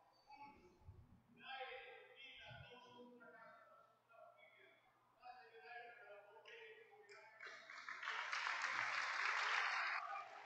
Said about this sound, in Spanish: Aplauso para todos los clubes